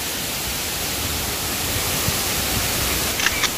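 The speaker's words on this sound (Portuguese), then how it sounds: "Aproveita aí o som da cachoeira, vou deixar pra vocês." The Queda do Meu Deus waterfall in PETAR roars in a loud, unbroken broadband rush heard up close, with a few faint clicks near the end and no voices.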